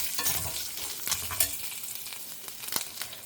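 Turmeric and fried fenugreek tipped into a hot pan for Madhwa-style hagalakai gojju, a steady close sizzle of frying with stirring scrapes and a few sharper clinks, no voices.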